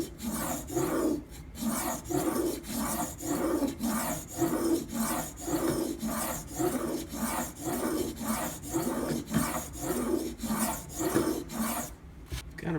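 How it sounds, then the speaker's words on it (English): Knife blade held in a sharpening clamp and ground along its edge to raise a burr: steady, rhythmic rasping strokes roughly every 0.7 seconds, close and loud, with no voices. "Now I need to recreate a burr on this side because I didn't grind to a burr when I first started"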